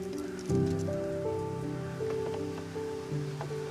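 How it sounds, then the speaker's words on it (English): Steady rain falls outdoors on a landscape during plein air painting, a continuous soft patter with scattered drops, accompanied by low tonal background sounds and no speech. "Being out in the rain is sort of all part and parcel of plein air painting"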